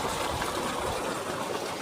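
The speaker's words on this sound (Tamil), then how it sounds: "நம்ம மாடு எப்படி தண்ணி குடிக்குது பாருங்கள்" A cow drinks water with steady, forceful slurping and gurgling, close and continuous with no pauses.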